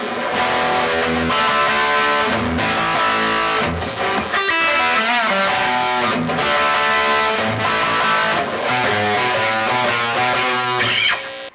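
A distorted electric guitar plays the opening riff of a rock song, with heavy chugging chords broken by quick single-note runs, loud and continuous throughout, with no voices.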